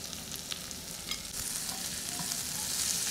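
Turmeric and salt being stirred into tawa pulao frying on a hot griddle, a steady close sizzle with scraping stirs building slightly louder toward the end.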